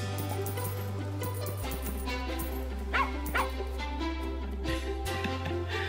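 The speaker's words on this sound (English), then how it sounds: "I really like this good dog." Cartoonish dog yips and woofs in the farming game Plantera, a few short barks standing out around the middle over constant game music and chimes.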